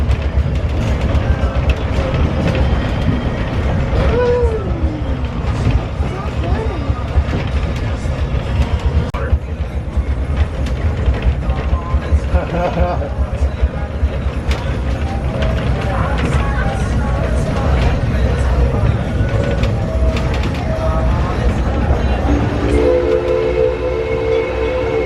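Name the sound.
Six Flags Railroad train ride with holiday lights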